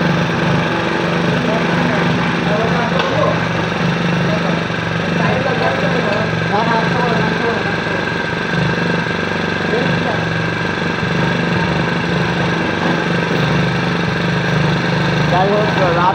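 A 120cc mini power tiller engine runs steadily and loudly throughout, a constant mechanical drone with people talking faintly over it.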